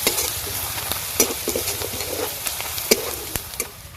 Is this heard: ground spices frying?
yes